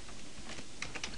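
Keys tapping on a computer keyboard while code is typed for a Minecraft mod, soft and steady at first with a few sharper, closer clicks near the end, no voice.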